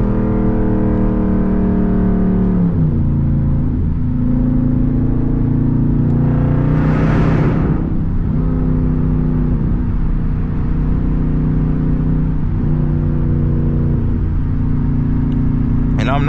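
A straight-piped SRT Jeep drones loudly from inside the cabin at steady speed-limit cruising, its deep exhaust rumble rising and dropping through gear changes with a brief surge of revving partway through.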